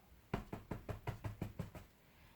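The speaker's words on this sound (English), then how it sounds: "He knocked on the door" A door is knocked on in a short series of about seven quick, evenly spaced raps. They are quiet and fairly close, with no voices.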